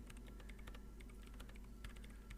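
Quick, light keystrokes on a computer keyboard, clicking in an uneven, rapid run close by and faint, with no talking.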